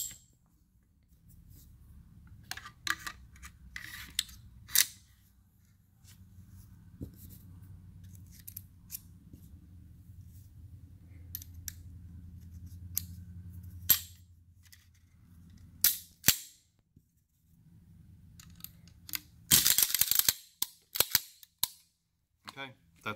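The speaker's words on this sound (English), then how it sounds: "That's how you use the Freedom Gunworks AFTEC extractor removal tool." Freedom Gunworks AFTEC extractor removal tool used on a pistol slide, a series of sharp metallic clicks and snaps spread over quiet handling noise, with one cluster of louder rapid clacks near the end.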